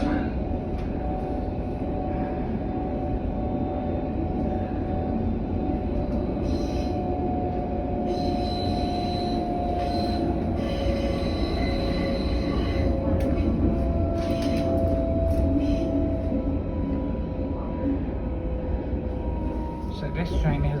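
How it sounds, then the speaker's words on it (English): A train running along rails on a journey toward Berlin Hauptbahnhof, giving a steady, loud rumble throughout, with wheel squeal rising at times and occasional higher-pitched rattles. "So this train hasn't been that busy."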